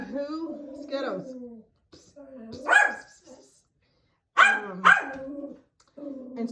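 A small dog barks angrily at someone walking past the window, giving several sharp, loud barks in quick clusters broken by short pauses, close to the recorder.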